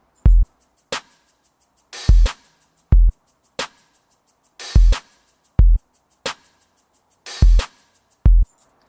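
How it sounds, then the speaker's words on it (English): A progressive house beat plays back at 90 BPM: punchy kicks with bright snare or clap hits and faint hi-hat ticks in an even, sparse groove, loud and clean with no talking. "If we play this back at 90 beats per minute right now,"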